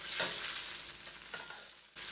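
Masala with chilli powder sautéing in a pan for a mutton liver do pyaza, a continuous close sizzle and frying crackle with soft stirring scrapes throughout.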